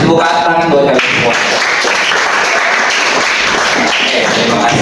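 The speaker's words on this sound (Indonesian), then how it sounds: "Tepuk tangan buat kalian semua." A classroom of students applauding together, a dense steady patter of clapping hands that fills the whole stretch, fairly loud and close, with a few voices mixed in at the start.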